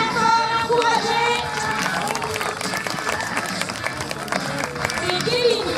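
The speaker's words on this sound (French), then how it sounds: "Vous pouvez l'applaudir bien fort, l'encourager." Crowd at a farm rodeo applauding and cheering a Belgian cowboy named Kevin, dense rapid clapping and hubbub running steadily throughout, with an announcer's voice talking over it.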